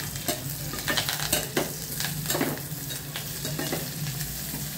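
Curry leaves fry in hot tempering oil for wheat rava upma, close-up sizzling and spattering with irregular crackles and scraping stirs over a steady hiss.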